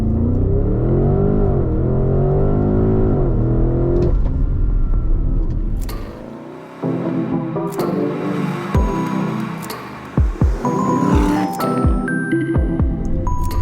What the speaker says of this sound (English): It now has that V8 4-litre twin turbo, 460 horsepower, 620 Newton meters of torque, and 0 to 100 kilometers an hour.